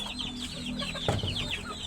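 Naked-neck chickens in a backyard pen cluck in quick, overlapping bursts close to the mic, with a slightly louder squawk partway through and no talking.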